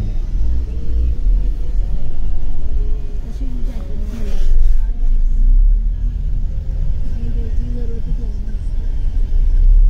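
Road traffic in a jam on the hill road up to Solang Valley, a deep steady rumble of idling and creeping vehicle engines close by, with a voice talking over it.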